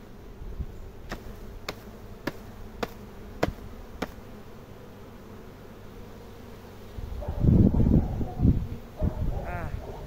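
Honey bees hum steadily during a honey harvest, a low continuous drone broken early by a few sharp regular taps, then louder handling noise and muffled voices toward the end.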